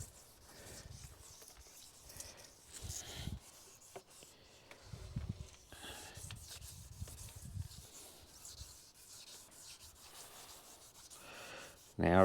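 Sandpaper rubs over primer on a Smart car's body panel in quiet, irregular scrubbing strokes, close up and faint, ending with a brief louder knock.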